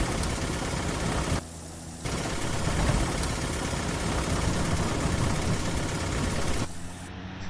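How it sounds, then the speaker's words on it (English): A simulated aircraft stall-warning stick shaker in the X-Plane 11 flight simulator, rattling loudly and continuously over engine drone at low power, nose high, with two short dips where it briefly drops out. "That is the sound of a stick shaker."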